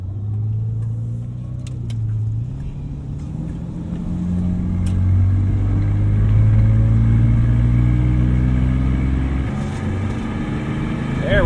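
A Jaguar car pulls away in a long first gear, its engine rumbling low and steady and building gently in loudness over several seconds, close by from inside the car.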